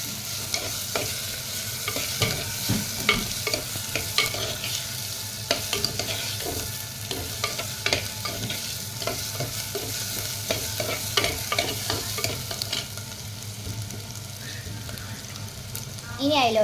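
Mango pieces being stirred into a fish curry in a pan, with a steady low simmer and sizzle under repeated spoon scrapes and clicks throughout.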